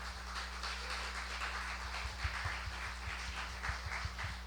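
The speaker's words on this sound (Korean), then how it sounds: "우리 섬기러 온 우리 찬양팀 향해 감사의 박수로 우리 화답하시면 좋겠습니다" A Korean church congregation at a Friday late-night prayer service applauds the praise team: steady, moderately faint clapping from many hands, continuous throughout beneath a low hum.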